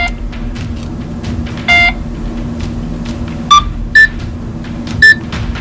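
Short electronic beeps from a Spy Code Hackathon toy game sound over a steady background hum, with one long tone followed by several short, sharp bleeps spaced irregularly.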